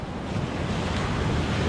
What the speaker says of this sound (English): the waves are still big